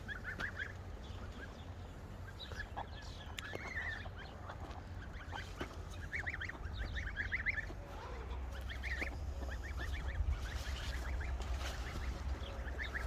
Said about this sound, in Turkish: Tabi kazlar da annelerini geçti.